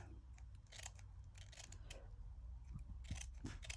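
Scissors trimming material in short snips, a few quick close cuts over a low steady background hum, with no talking.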